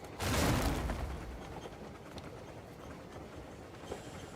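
A train rolls along the rails in the video game Crimson Desert, opening with a loud rushing burst that settles into a steady rumble with faint rhythmic clacks, moderately close and without talk.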